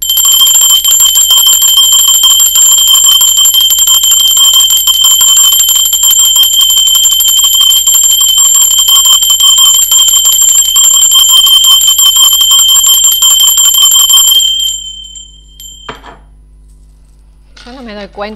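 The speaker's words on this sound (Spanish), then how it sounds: "el sonido de la campana son frecuencias muy bonitas, muy altas" A bell rings with a bright, sustained metallic shimmer, loud and continuous for about fourteen seconds before cutting off, followed by quiet and a faint brief sound.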